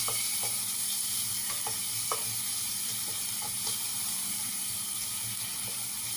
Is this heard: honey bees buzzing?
no